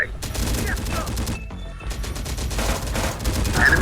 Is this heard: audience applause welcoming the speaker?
no